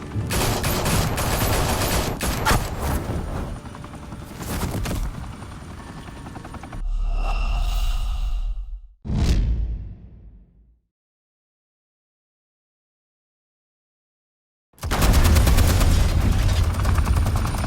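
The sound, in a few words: gunfire in the Batman video game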